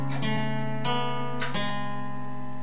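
Acoustic guitar sounding a held chord with a few plucked melody notes layered on top, close and fairly soft, with notes ringing out over a brief phrase.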